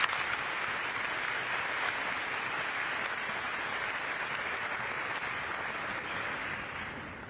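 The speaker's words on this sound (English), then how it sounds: "They definitely need a big round of applause." Sustained applause fills the COP28 plenary hall, a broad, even clapping from a large audience that carries on for several seconds and fades slightly at the end.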